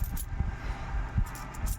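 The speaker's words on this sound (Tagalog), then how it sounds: "pag tumutunog yung barya" Coins rattle and clink inside a piggy bank in a few quick, jangling bursts, close and moderately loud, with no talking.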